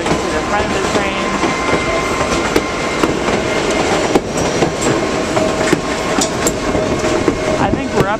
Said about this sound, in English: the train started to slow down